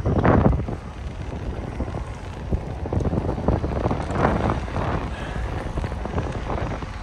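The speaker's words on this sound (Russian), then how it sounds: "Ветер дует в лицо." Wind buffets the microphone while riding through Olympic Park in Adler, a rough low roar with gusty surges and rumbling bursts, strongest at the start and fairly steady after.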